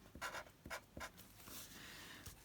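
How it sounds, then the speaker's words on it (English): A thick-nibbed Sharpie permanent pen writes on vellum, giving faint, close scratchy strokes in short, uneven bursts against a quiet background. "So I'm just going to write Sharpie"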